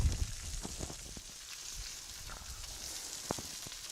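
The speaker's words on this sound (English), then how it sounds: "now I'm going to put my onions on the salt rocks" Onions and burger patties sizzle on hot salt rocks, a steady close crackle with a few sharper pops scattered through it.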